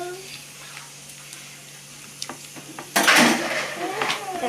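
A homemade slime mixture is stirred in a bowl, starting with faint scattered clicks and scrapes, then turning into a louder burst of wet, rapid stirring and scraping toward the end.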